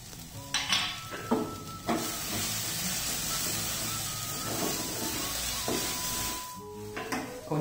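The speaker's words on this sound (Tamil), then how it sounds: "இப்போ இதில் அந்த துருவி வச்சிருக்கிற தேங்காய் இதை இதில் ஆட் பண்ணுறோம்." Grated coconut stirred into a hot pan with mango ginger for rice, frying with a steady soft sizzle and hiss while a spoon scrapes and taps the pan now and then, close and continuous.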